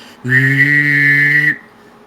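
A clumsy, wobbly human whistle resembling a cicada: one sustained, buzzy tone held for just over a second, loud and close, then cut off abruptly, with no talking.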